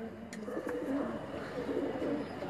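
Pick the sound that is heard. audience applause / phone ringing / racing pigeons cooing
racing pigeons cooing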